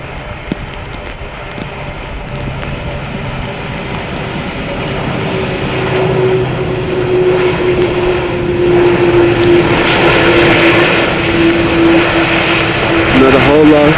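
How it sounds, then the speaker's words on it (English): KLM Airbus A380 arriving from Calgary at Amsterdam Schiphol in rain, a broad engine roar swelling louder as the aircraft comes in, heard over a person talking throughout. "So here's the A380 from KLM coming in from Calgary."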